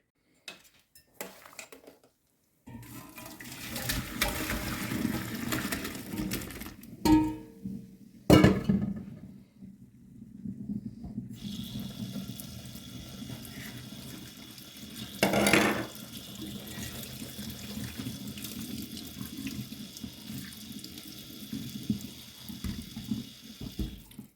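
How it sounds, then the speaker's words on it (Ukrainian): Water pours and splashes into a sink as it is drained from boiled liver, with pots clanking and a metal bang partway through, followed by a running tap as the liver is rinsed. "І тепер я оцю всю воду зливаю. Треба її злити, промити."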